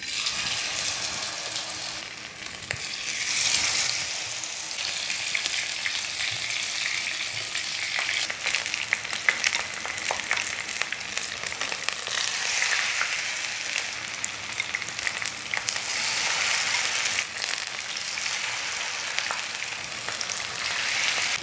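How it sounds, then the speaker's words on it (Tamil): Baby potatoes coated in batter deep-fry in hot oil, a steady loud crackling sizzle that holds on without a break and is heard close up, with no talk over it. "இப்போ நம்ம கரைச்சி வச்சு இந்த பேட்டரில் நினச்சி ஃப்ரை பண்ணிக்கலாம்"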